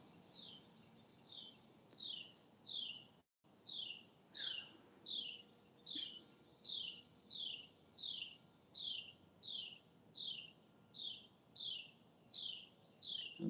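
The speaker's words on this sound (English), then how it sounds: "The bird's going crazy this morning." A single bird outdoors in a backyard on a morning repeats a sharp, bright chirp about once a second, steady and fairly close over quiet background with no talk.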